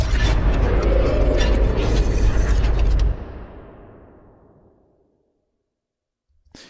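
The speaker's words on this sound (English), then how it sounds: "altogether, the tower coming out of the ground sounds like this" A rising-tower effect from the game Hyper Light Drifter, a dense rumbling, grinding roar with crackling mechanical texture that stops abruptly after about three seconds and trails off into a long reverberant tail, with a brief thump at the very end.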